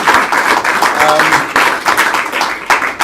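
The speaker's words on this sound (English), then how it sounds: "I think they deserve a round of applause" A community audience at the Lewisham mayoral hustings claps for the candidates, a dense, steady round of many hands with sharp overlapping slaps filling the room for about three seconds.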